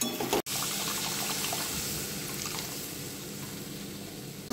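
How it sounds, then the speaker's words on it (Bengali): Water poured into Bihari-style chicken curry cooking in a pan: after a brief dropout, a steady rushing splash of liquid runs on for about four seconds, close and fairly loud, with no voices. "এরপর জল দিয়ে হালকা করে নেড়ে দেবো।"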